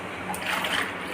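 Water splashes and pours steadily into a cooking pot for pulao rice, a continuous close, moderately loud gush lasting the whole short moment with no talking.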